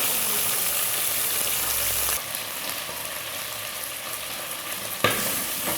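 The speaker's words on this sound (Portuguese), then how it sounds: "aqui eu vou fritar o bacon, ó. Não coloquei óleo e ele já soltou um pouco de óleo na panela." Bacon frying in its own rendered fat in a pan with no added oil, a steady close crackling sizzle that softens slightly partway, with a brief clatter near the end.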